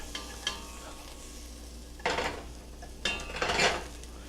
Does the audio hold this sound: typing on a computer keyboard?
no